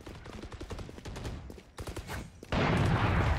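Rapid gunfire from a Valorant ranked match, a dense burst of repeated shots that jumps to a loud, sustained barrage in the final second.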